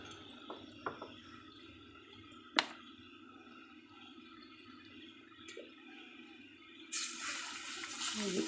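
Hot water pours into a pot of thin raw-mango and lemon-leaf sour soup in a short, hissing splash near the end. Quiet kitchen clinks and a sharp knock come before it.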